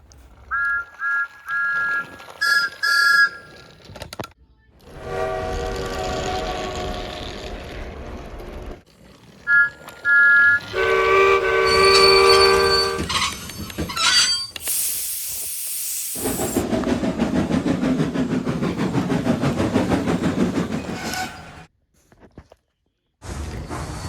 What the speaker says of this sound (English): most of Thomas's E2 siblings, along with some other engines, were called to Union Station